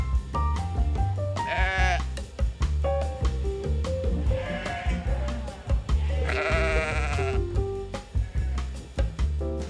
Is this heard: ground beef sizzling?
no